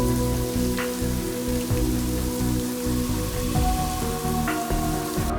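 Artificial indoor rain pours steadily in the Rain Room installation in Sharjah, a dense continuous patter of water drops hitting the floor, close and fairly loud with no voices.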